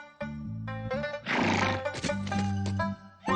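A horse in The Tale of Food video game gives a loud, clear whinny with rising and falling pitch and a short breathy snort, lasting a few seconds with no talking.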